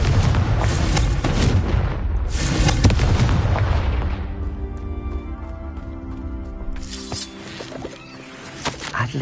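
Confringo blasting spell explosions in a video game, heavy booming blasts in quick succession with a deep rumbling tail that decays into a sustained resonant tone, then a final burst.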